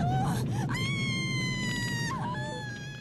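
A woman in a horror film scene screams loudly in a sustained, high, wavering wail that slides in pitch and fades slightly at the end.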